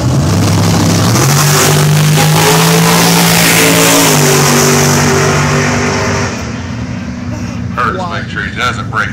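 A Polaris 600 snowmobile makes a drag racing run at Coles County Drag Way, its engine roaring loudly and climbing in pitch before dropping away. A public-address announcer talks throughout.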